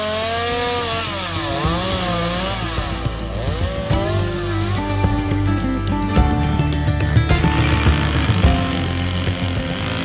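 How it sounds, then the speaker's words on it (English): A chainsaw buzzes continuously and loudly throughout, its pitch wavering as it cuts fallen trees during an airport cleanup on North Fox Island, with music playing alongside. "I'm sure you can hear the chainsaw behind me."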